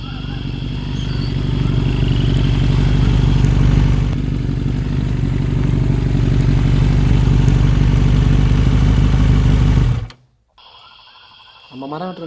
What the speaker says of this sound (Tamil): ஒரு நிமிஷம் ஏதோ வண்டி சத்தம் கேட்குது.